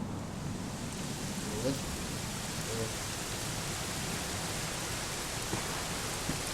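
Steady rain falling in the Dragon Quest 11 video game, a constant soft hiss with faint scattered droplets and no voices.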